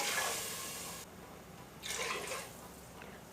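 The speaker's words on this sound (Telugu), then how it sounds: "సేమ్ కప్పుతో 3 కప్పులు వాటర్ వేసుకోవాలి." Water poured from a cup into a cooking pot while making vegetable biryani, heard as a steady hissing splash that swells and fades over a few seconds, close and moderately loud, with no talking.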